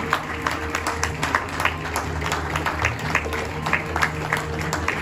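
An audience at an award ceremony in a Lemon Tree hotel breaks into steady, moderately loud clapping for about five seconds over a low background hum.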